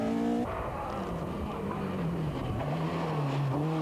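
Welsh-built Peugeot 106 rally car on a stage of the 2003 West Cork Rally, engine snarling loudly and close as it works through a chicane, revs dipping and rising with a brief gear change and tyre scrabble, no talk.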